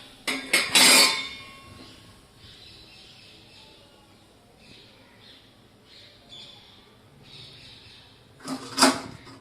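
Fried besan sev is lifted out of a pan of hot oil, with sharp metallic clinks and scrapes of a ladle against the pan at the start and end and quieter rustling between.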